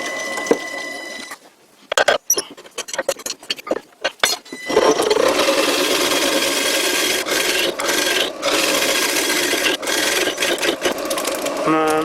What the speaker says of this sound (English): The lathe is running about 800 RPM.